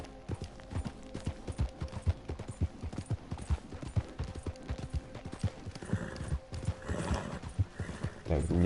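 Horse hooves clip-clop steadily in the Red Dead Redemption 2 video game world, with whinnying and neighing, under occasional speech and game ambience; the trotting is dense and rhythmic throughout, busier toward the end.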